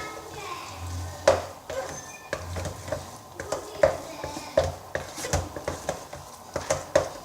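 A spoon stirring a bread bonda potato filling with soy sauce in a pan gives repeated close taps and scrapes against metal under a low sizzle, with faint voices in the background.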